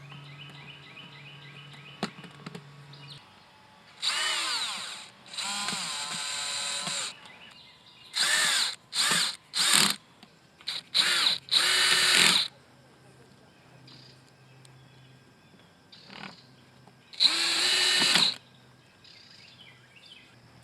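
A power drill drives 1.5-inch screws into a wooden mailbox post in several loud bursts of whirring, some long and some short, separated by quiet pauses with a faint background hum.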